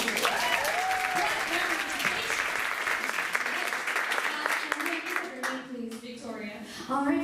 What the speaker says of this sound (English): We all applaud our super delegates.